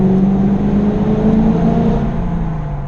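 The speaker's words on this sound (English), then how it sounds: "You just give it a little kick, and you're right at the right RPM for rev matching for downshifts" A 2010 Nickey Stage II Camaro's V8 engine droning loud and close in the cabin, with a steady low tone that rises slightly and then eases off during a downshift.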